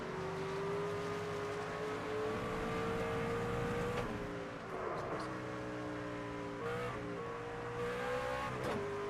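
A NASCAR 25 race car engine drones steadily at high revs, with several abrupt downshift breaks where the pitch drops and climbs again, other cars faintly around it.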